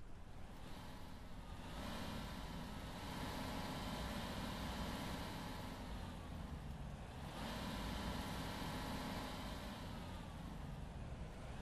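Bus engine idling in OMSI 2, a vehicle fitted with a Voith gearbox, giving a steady low rumble that holds evenly throughout with a slight swell near the middle and end, no voices present.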